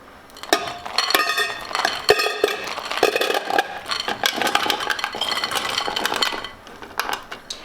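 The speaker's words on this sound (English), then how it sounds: "And then we're going to go ahead and add our caramels to our pan." Kraft caramels tumble into a pan, a busy run of clinking, rattling clatter as the hard candies drop and knock against the metal and each other, fairly close and steady with short pauses.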